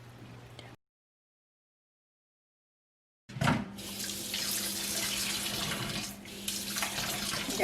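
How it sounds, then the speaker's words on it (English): Dirty water from rinsed beef intestines drains through a colander into a sink, starting as a brief trickle and then becoming a steady, close splashing flow after a short silence. "I'm going to put them into a colander to let all of the dirty water drain out."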